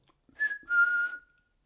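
Two whistled notes, a short one followed by a longer held tone, clear and fairly close with a breathy edge.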